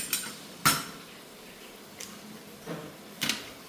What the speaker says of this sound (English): Then you beat the egg.